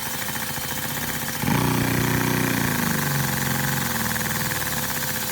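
Small Lego pneumatic vacuum engine idling after its idle-speed screw is adjusted, a steady close mechanical chugging that starts suddenly and runs on with a slightly shifting pitch, no talking.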